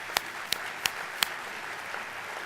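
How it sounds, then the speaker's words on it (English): Four sparse, separate claps ring out one after another from an audience at a teen charity gala, sharp and brief over a quiet room hum, with no full round of applause. "That's a clapping moment."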